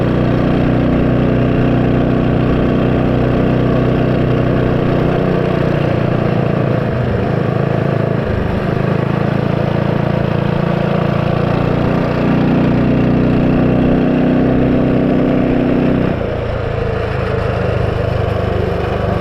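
A 79cc small engine fitted with 1.3 ratio rocker arms runs loud and close for the whole stretch, a steady dense drone with slight shifts in pitch as the revs change.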